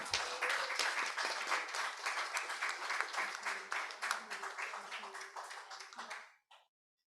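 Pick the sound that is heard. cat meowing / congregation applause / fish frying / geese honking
congregation applause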